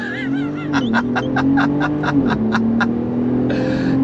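A 2025 Ram 1500 RHO pickup launches hard from launch control, its engine drone climbing steadily with a few rapid pitch drops as the 8-speed shifts, loud and close throughout.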